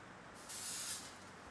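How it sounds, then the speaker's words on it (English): A window cleaner spray bottle gives one short hissing spritz of about half a second, close and clear against a quiet room. "a window spray, and paper towels."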